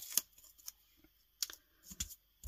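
Sticky tape pulled and pressed down during a papercraft tag project: a few sharp crackling tears and taps in short bursts, close and fairly quiet, with no talking.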